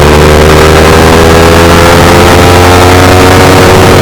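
Yamaha R15 V4 motorcycle engine accelerating through first and second gear on a top speed run, a loud, close, sustained buzzing roar with layered tonal hum and no voices.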